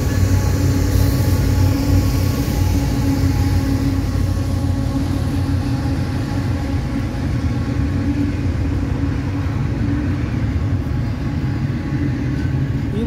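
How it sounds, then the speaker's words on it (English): A northbound Norfolk Southern intermodal freight train rolls past on track one, a loud continuous low rumble and droning engine hum that holds steady throughout without pause. "Another NS train."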